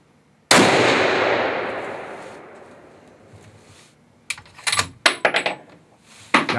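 A single sharp rifle shot at a 200-yard range, fired through a Swarovski ballistic turret scope, cracks loudly and rings out in a long fading tail, followed by light metallic clicks and handling sounds.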